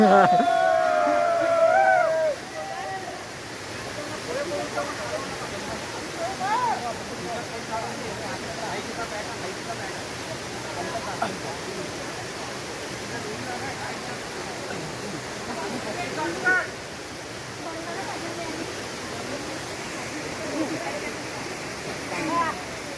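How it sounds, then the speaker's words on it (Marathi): A steady, dense rush of falling water from a hidden waterfall at Chikhaldhara, Amravati, fills the whole stretch, with a few faint bird chirps near the start. "बघू शकता हा धबधबा आहे आणि हे वरून येतं"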